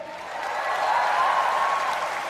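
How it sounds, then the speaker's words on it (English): Audience applause at a comedy roast, a steady wash of clapping that swells and holds for a couple of seconds at moderate distance, with no voices over it. "A huge round of applause to everyone,"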